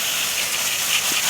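A loud, steady hiss fills the whole moment as a burning vacuum cleaner bag is put out, close and continuous with no speech.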